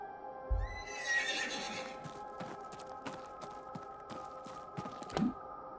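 A horse whinnies in The Séance of Blake Manor, a supernatural detective horror game, with a drawn-out neigh near the start, followed by soft scattered clicks and light clip-clop under a faint steady hum.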